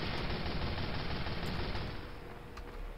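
Gunfire in Team Fortress 2: a dense, loud stream of rapid shots and blasts that fills the moment, easing slightly toward the end, with no voices over it.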